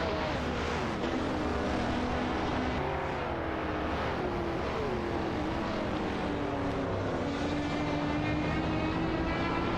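Shelby Cobra 427 SC and Ferrari 365 GTB/4 Daytona race cars in a racing game, with a steady droning blend of engines and shifting pitch as they run close together around a track, no talk.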